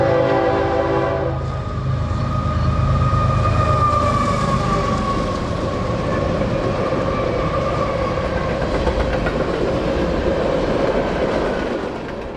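A freight train led by a black GE wide cab locomotive on the Harrisburg Line sounds a long, loud horn chord, then rumbles past steadily with continuous wheel and engine roar.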